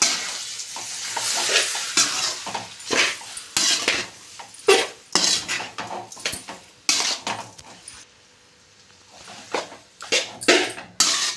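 Chicken egg noodles tossed and mixed in a pan, with irregular bursts of utensil scraping and clanking against the metal over a light sizzle, a short quieter lull, then more vigorous stirring, up close with no talk.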